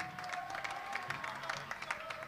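A theater audience at a Puerto Rican salsa concert in San Juan applauds a musician being introduced on stage, a steady, fairly distant wash of clapping with individual claps poking through, lasting just over two seconds.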